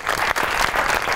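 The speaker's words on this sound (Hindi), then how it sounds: "बहुत सी तालियां होनी चाहिए उनके" Dense, close applause from an audience honoring a music composer, brisk continuous clapping that holds steady with a brief dip partway through.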